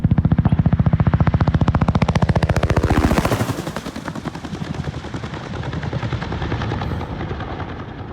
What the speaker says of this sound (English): Happy days seeing helicopters in the sky.